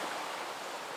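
Water rushes steadily at a stream crossing in Red River Gorge, a close, continuous broadband wash with no pauses.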